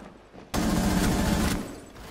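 A sudden dense burst of gunfire in a shooting game, loud and sustained for about a second before easing off into a lingering rumble.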